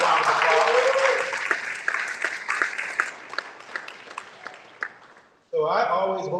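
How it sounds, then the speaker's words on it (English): Applause from a county executive debate audience, dense at first and thinning into scattered claps over several seconds before cutting to a different, tonal sound at the end; speech-like noise is mixed in. "Give a round of applause."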